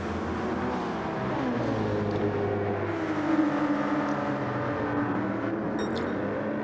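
Several race cars in the Gran Turismo 7 video game, racing at the Fuji circuit, drone past with layered, shifting engine whines at a steady loud level and no speech over them.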